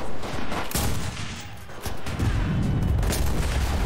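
Rifle and gun fire in the WW2 shooter Enlisted, a steady barrage of loud close shots and booming impacts that keeps going.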